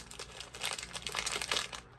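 Small plastic bags crinkle and crackle close by as they are handled, a steady run of dense crumpling rustles for about two seconds with no talk.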